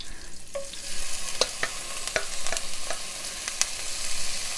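Shrimp fry in hot olive oil in a pan, giving a steady crackling sizzle with sharp pops and spits scattered throughout, close and moderately loud, with no voices.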